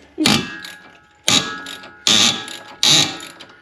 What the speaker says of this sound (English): It's making tight bolt noises.